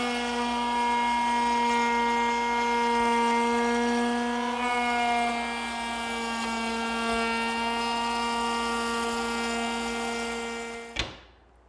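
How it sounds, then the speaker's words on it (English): A router table shapes a solid mahogany edge band on veneer plywood with a steady, high-pitched motor whine that holds level for about eleven seconds, then cuts off with a sharp click. "it's edged with this solid mahogany band. I want to make that first at the router table."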